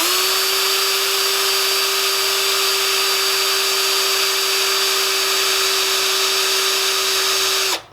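A steady, loud power drill whine runs continuously for several seconds, then cuts off abruptly at the end.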